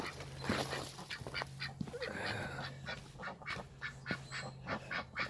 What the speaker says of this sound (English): my ducks are laying eggs